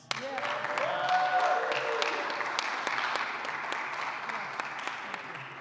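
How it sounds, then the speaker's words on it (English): A church audience claps steadily at an opera preview gathering, a dense patter of many hands that swells early and then slowly fades, with faint voices underneath. "I just want to give a round of applause to Josh Wentz"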